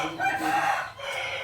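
A rooster crows once in a rural Thai setting, a drawn-out cock-a-doodle-doo at moderate distance, faint but clear over a steady background.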